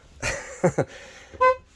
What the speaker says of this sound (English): here you've got your air horn. So in case you really want to honk at somebody.